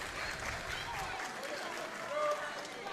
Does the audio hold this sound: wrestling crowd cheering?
yes